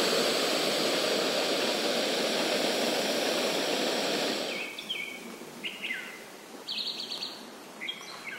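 Jetboil camping stove roaring steadily as it boils water for chamomile tea outdoors at night, a loud continuous rushing hiss that cuts off abruptly midway, leaving quiet with bird chirps.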